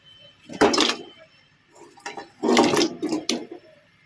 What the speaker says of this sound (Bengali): জলটা গরম হয়ে গেছে এবার আলুগুলো দিয়ে দেবো